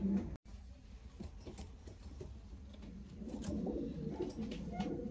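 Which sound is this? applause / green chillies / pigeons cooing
pigeons cooing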